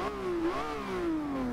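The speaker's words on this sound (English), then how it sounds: "the engine sounds a little more aggressive because we can reach higher revs now" A 2012 Lamborghini Aventador LP700-4 engine in Forza Horizon 2 climbs in revs, dips briefly and rises again before easing off, a steady moderately loud tone with no one talking.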